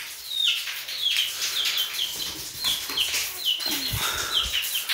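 A hen clucks nearby in short, repeated, fairly loud calls, with occasional soft chick-like peeps and light handling noise in between.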